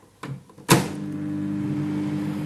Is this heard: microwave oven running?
yes